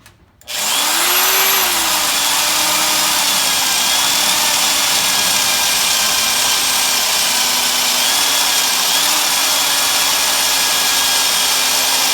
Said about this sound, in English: Drill a bunch of holes all the way around.